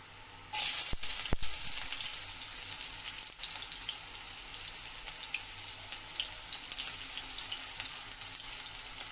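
Onions sizzle steadily in hot oil for a prawn curry with vegetable stalks, a loud continuous frying hiss that starts abruptly and carries on alone without talk.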